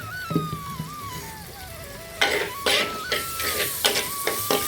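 Tomato and onion sautéing in a pan for Chettinad mutton curry, with a steady frying hiss broken by several loud bursts of stirring scrapes, and a thin whistling tone gliding through the background.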